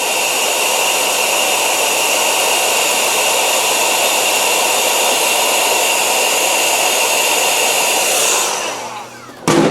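A heat gun blows loud, steady hot air over solder sleeve heat shrink on go-kart wiring, a constant rushing roar that cuts off near the end.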